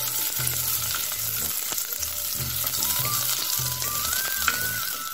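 Chopped green chillies stirred and frying in a pan for a canned baby jackfruit curry, a loud, constant sizzle broken by repeated rhythmic scraping strokes of a spoon.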